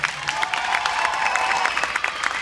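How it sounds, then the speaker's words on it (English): Audience applause for musicians at a live event, a steady wash of clapping from a crowd, moderately loud and continuous with a few brighter nearby claps standing out. "Let's give them another round of applause."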